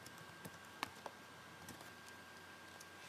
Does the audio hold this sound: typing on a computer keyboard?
yes